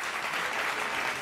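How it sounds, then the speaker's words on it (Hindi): Studio audience at a Hindi political talk-show interview bursting into steady, dense applause, loud and continuous throughout with no talk over it. "आप लोग के लिए ताली।"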